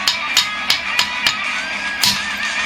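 A hammer strikes stone to spall off sharp shards, giving a series of about six crisp, evenly spaced knocks, close and fairly loud, over a steady background hum.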